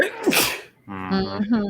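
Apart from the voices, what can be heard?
sneeze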